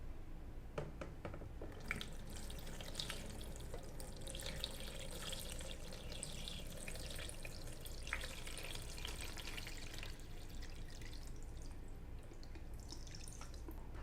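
Water trickles and gurgles into the tank of a BUNN BXB Velocity Brew 10-cup home coffee brewer, a faint, steady dripping and splashing that continues for many seconds with no talk.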